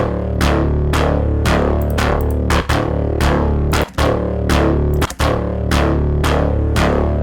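A heavily distorted, growling drum and bass synth bass with a very full low end pulses in a steady rhythm, loud and dense, with brief dropouts between phrases.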